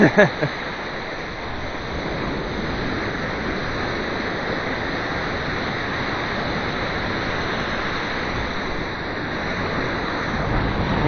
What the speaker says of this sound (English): These waves used to knock me down quite a bit as a kid.